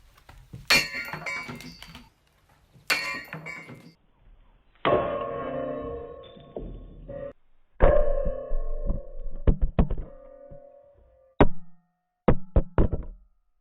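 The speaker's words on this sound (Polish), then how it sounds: "Widzę, że ciężki młot wchodzi." A series of heavy knocks and sharp clinks as a sledgehammer repeatedly strikes a snooker cue ball, some blows ringing briefly, separated by pauses and shuffling.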